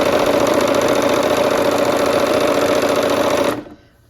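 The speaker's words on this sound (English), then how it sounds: "let's go ahead and sew" Sewing machine stitching quilt pieces assembly-line style with a quarter-inch seam, running steadily fast and close with a continuous even whir before stopping abruptly.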